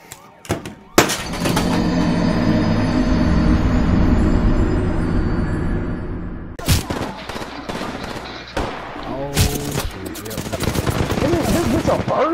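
Gunfire in the battle royale video game Apex Legends: sharp shots and rapid bursts, with a dense exchange early on and scattered volleys later, all loud and close.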